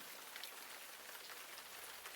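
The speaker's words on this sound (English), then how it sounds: "I'm doing all of this in the rain." Steady rain patters down on the surfaces around an off-grid cabin build site, a dense, even hiss of drops with no voices, constant and fairly close throughout.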